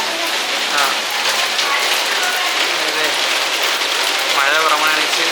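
Heavy rain pours down steadily in a loud, close wash that fills the whole stretch, with a voice briefly audible beneath the downpour.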